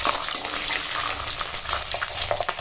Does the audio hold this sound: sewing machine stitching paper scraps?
no